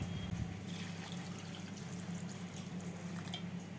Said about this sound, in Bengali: আর এখানে নিয়েছি আড়াইশো গ্রাম মাটন কিমা এর মধ্যে দিয়ে দেবো দু কাপ মতো জল